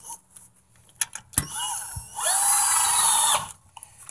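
A power drill whirs in a short burst of about a second, loud and close, after a few clicks and handling noises, during a car rear disc brake conversion.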